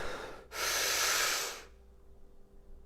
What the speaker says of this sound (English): let's go ahead and take a big breath in